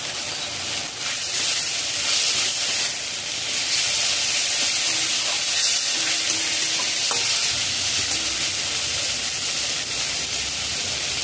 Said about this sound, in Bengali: জল দিয়ে লো টু মিডিয়াম ফ্লেমে 3 মিনিট নাড়াচাড়া করে কষিয়ে নিয়েছি